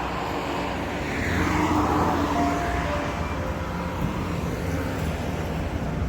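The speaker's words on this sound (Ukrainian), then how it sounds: "Ох, йомаю, вже й машин куча на дорозі." Steady dense road traffic with many cars on a road heading toward Kyiv, a continuous broad roar with a slight swell in the middle, fairly close and with no talking.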